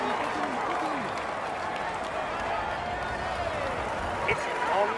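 Crowd applause and cheering from the Tour de France 2021 game on PS4, a steady roar of clapping spectators along a time-trial route, continuous across the whole stretch with a few louder swells.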